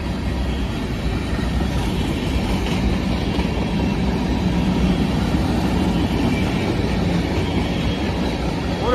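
Long freight manifest train rolling past at close range, a continuous heavy rumble of wheels and cars with steady clatter and faint high squeal, lasting the whole stretch.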